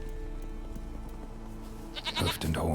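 A goat bleats in The Witcher 3, coming in at the end over a steady game soundscape with low droning tones, a short loud nearby call.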